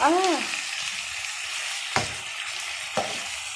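Chicken and vegetables sizzle steadily in a frying pan as a spatula stirs them, with two sharp scraping knocks against the pan standing out over the continuous frying hiss.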